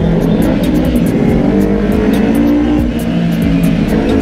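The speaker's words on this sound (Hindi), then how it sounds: "क्या बेस है भाई निंजा का, क्या बेस है" A Kawasaki Ninja motorcycle engine roars loudly inside a traffic-filled tunnel, a steady, close, booming drone with reverberant rumble and passing-vehicle noise throughout, no talking over it.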